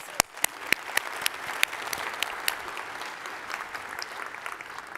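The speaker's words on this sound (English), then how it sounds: "another round of applause for all of the winners" Applause for award winners at a government technology conference, opening with a few sharp, nearby claps that blend into a steady, moderately loud wash of clapping from a large audience, with no speech over it.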